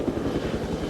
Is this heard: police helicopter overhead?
yes